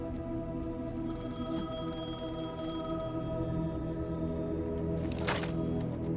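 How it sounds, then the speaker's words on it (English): A payphone rings in the video game Alan Wake 2, a faint repeating electronic ring sounding over a steady tonal ambient drone, with no talk. "The payphone was ringing."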